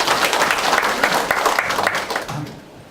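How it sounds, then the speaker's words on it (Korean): Loud, close applause from a conference audience bursts out as a dense patter of many hands, then thins and fades away near the end. "박수 한번 주시죠"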